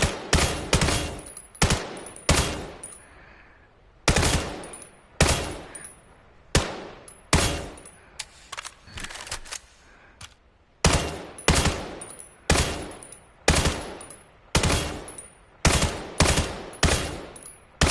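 Rapid bursts of video game gunfire shooting at targets, loud and close, firing in short repeated volleys with brief pauses throughout, no talking.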